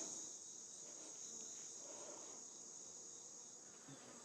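Honeybees in an opened hive hold a constant, dense buzz, their agitated hum steady and faint throughout, with a high insect-like whine layered above and no voices.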